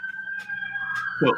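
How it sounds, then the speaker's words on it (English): A police siren wails steadily in the distance outside, a long sustained tone running behind a conversation, with a brief louder burst near the end. "Oh, you got sirens?"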